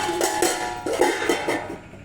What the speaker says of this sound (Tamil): மூடி போட்டு மூடி வச்சிடலாம்